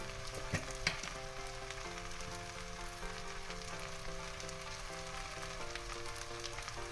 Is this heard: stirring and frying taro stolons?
yes